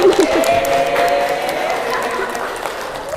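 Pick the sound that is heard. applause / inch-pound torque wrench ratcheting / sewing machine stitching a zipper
applause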